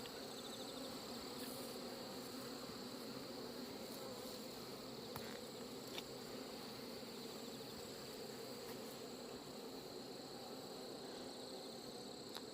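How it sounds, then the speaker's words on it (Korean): A black hornet buzzes steadily near a honeybee hive, its drone continuous and fairly loud throughout with no pauses, some faint clicks in the background and no speech. "똑같은 흑말벌이죠."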